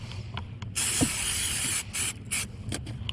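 Spray 90 contact adhesive hisses from an aerosol can during kayak outfitting work, with one long steady burst and several short spurts around it, close and fairly loud.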